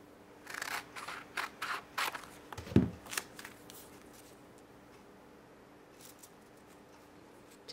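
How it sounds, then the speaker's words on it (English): Scissors snip straight stem pieces cut for a contemporary tulip bead bottle embellishment, a run of quick close clicks with one louder cut in the middle, then near silence. "For the stems, I just cut my straight pieces here."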